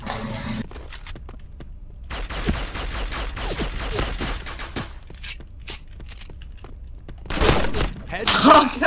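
Gunfire in a video game during a one-on-one match, scattered shots and bursts with some thuds spread across the moment, with players talking over it.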